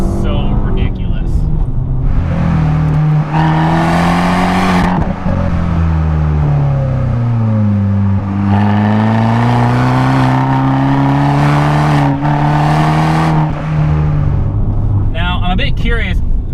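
A manual Fiat 500 Abarth engine and exhaust drone and climb in pitch through repeated gear pulls, falling at each shift, with someone talking over the steady cabin noise.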